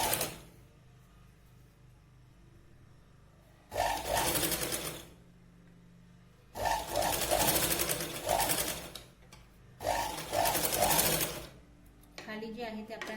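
A sewing machine stitches a fabric strip onto a Katori-style blouse in three loud, steady bursts of fast mechanical whirring, separated by quiet pauses, with a short clattering run at the end.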